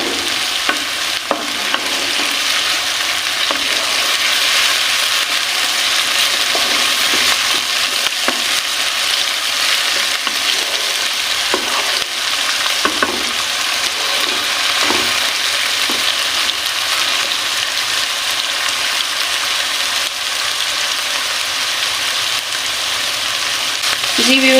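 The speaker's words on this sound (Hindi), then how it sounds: "यहाँ पे हम चिकन को फ्राई करेंगे लहसुन अदरक की पेस्ट के साथ" Chicken frying with garlic-ginger paste in a pan, a steady dense sizzle with occasional stirring scrapes, close and continuous with no talking.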